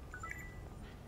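In the Watch Dogs video game, a short sequence of quiet electronic tones plays during phone hacking, a few brief pitched beeps in quick succession over a low background hum.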